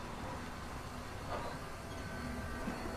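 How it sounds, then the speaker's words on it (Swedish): A faint, steady train rumble from the game Titanic: Honor and Glory, a low continuous rolling noise with soft clatter and no speech. "Vackert tåg, om inte annat."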